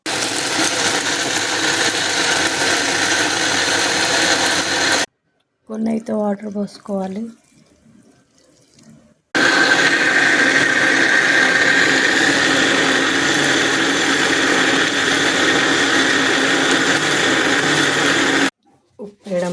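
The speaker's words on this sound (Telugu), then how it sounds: "దీన్ని మిక్సీ పట్టేద్దాం." A kitchen mixer grinder whirring loudly while grinding coconut chutney, in two long steady bursts separated by a pause in which someone speaks briefly.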